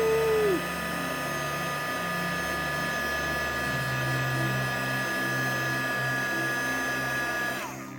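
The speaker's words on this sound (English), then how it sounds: "it's an embossing tool, but it dries paint really nicely" A small handheld embossing heat tool drying paint on an art piece blows with a steady, whining fan hiss that holds for about seven seconds before cutting off near the end.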